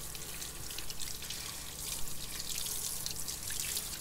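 Water runs over an orchid plant being rinsed to clean off mealybugs, a close, continuous splashing and trickling hiss from a tap with no talk.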